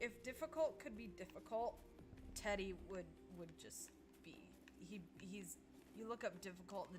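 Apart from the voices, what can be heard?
No everyday noises stand out.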